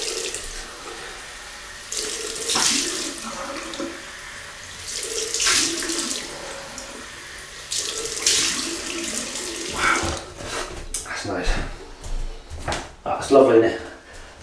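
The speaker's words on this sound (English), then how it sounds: "Another cold water rinse." Tap water running into a sink for a cold rinse during a shave with a vintage 1961 Gillette Fat Boy razor, coming in splashy bursts with clinks and someone talking between them.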